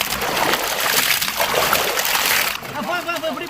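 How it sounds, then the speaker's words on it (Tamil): Water draining off chicken pieces during village-style cooking, a continuous splashing pour that stops abruptly near the end, leaving a softer trickle and dripping while people talk nearby. "தண்ணி வடிச்சிடுறோம்."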